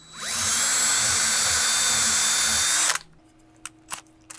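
An electric drill with a brad point bit spins up and bores steadily into wood for about three seconds, loud and close, then cuts off, followed by a few light knocks.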